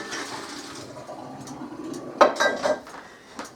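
Al dente pasta noodles being drained for baked mac and cheese: a soft rush of water with metallic pot and colander clanks and knocks clustered near the end, close and moderately loud.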